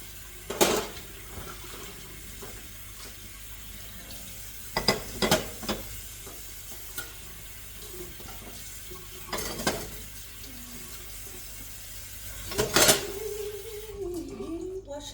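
Dishes, pots and cutlery clatter and clink in a home kitchen while cooking sausage rolls, with a few sharp knocks and short scraping bursts over faint running water and quiet room noise.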